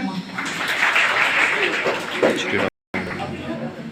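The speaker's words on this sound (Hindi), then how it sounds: "बहुत बढ़िया, बहुत बढ़िया, ताली हो जाए।" Audience clapping at a CPR training session, a steady dense round of applause mixed with voices, briefly cut out near the end before resuming.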